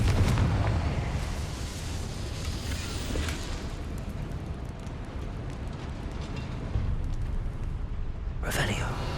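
A Confringo spell explosion in the video game Hogwarts Legacy, a sustained rumbling roar of fiery blast noise that stays loud throughout, with a sharp crackling burst near the end.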